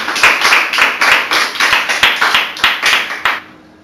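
Church congregation clapping hands together as an offering to the Lord, a steady rhythmic series of about a dozen sharp, loud group claps that stop abruptly, with no talking.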